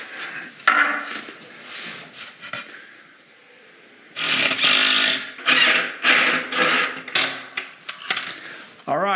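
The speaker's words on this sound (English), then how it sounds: "So I'm going to put a little glue on this unit and screw it together." A power drill drives screws into a glued closet shelving unit, with short revving whirs, a quiet stretch, then a run of repeated bursts of varying length, close and fairly loud.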